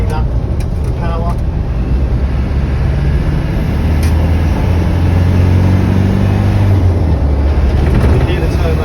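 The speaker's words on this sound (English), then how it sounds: "You can hear the turbo there" Land Rover Defender 200tdi diesel accelerating out of a village, a loud, rising engine drone with a turbo note building under it, with a person talking intermittently over the noise.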